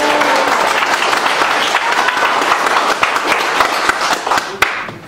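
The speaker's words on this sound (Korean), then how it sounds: "뜨거운 박수 부탁드리겠습니다" An audience at a political rally gives sustained, loud applause, a dense wash of many hands clapping close up that carries on without a break and fades slightly near the end.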